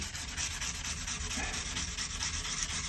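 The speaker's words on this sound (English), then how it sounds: "I'm not using a tool or anything, I'm just using some sandpaper and eyeballing it." Steady, continuous sandpaper rubbing by hand along the fret edges of an Epiphone Les Paul Standard guitar, a close dry scratchy hiss that holds without a break.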